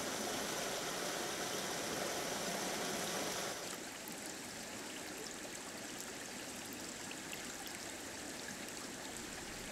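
Salmon stream on Vancouver Island flowing steadily, a continuous broadband rush of water that is louder for the first few seconds and then settles slightly quieter, with no voices.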